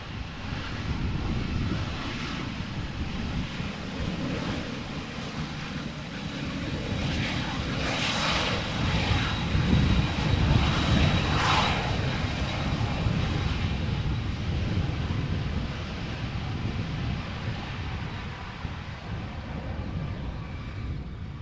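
A Croatia Airlines Airbus A319 arriving from Zagreb on approach to Amsterdam Schiphol Airport in gusty crosswind: a loud, steady jet engine roar swells as it passes near, then slowly fades, with wind rumble underneath.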